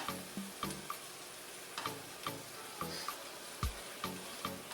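Sauce and vegetables sizzle as they cook down in a pan, a steady frying hiss broken by regular light taps and clinks of stirring.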